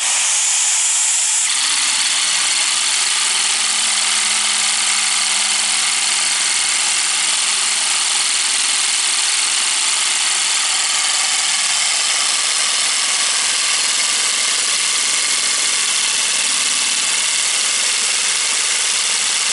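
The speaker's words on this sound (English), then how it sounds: "Got a Lego engine." A small Lego two-cylinder vacuum engine running at about 1250 RPM chugs steadily with a soft mechanical hiss and rhythmic puffing, continuous and fairly close, without any talking.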